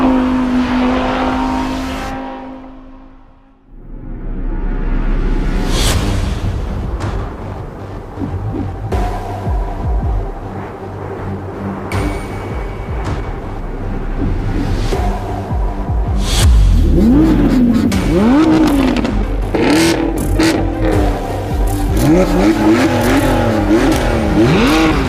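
A naturally aspirated V10 car engine screams at high revs in a drag race, loud and close, with repeated rising revving sweeps, brief drops between pulls and a sustained wailing run toward the end.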